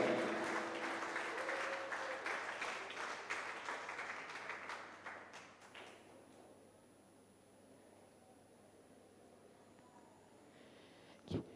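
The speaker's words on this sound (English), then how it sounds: "Give it applause for the signing of memorandum agreement." An audience applauds at the signing of a memorandum agreement during an English language teaching conference, a dense spread of clapping that gradually thins and fades to near silence by the end.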